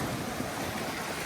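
Strong ocean waves at a beach make a loud, continuous roaring wash of surf, with steady wind rumble on the microphone and no voices.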